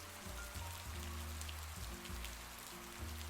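Rain falls steadily outside, a soft continuous patter that stays even and low throughout the short stretch.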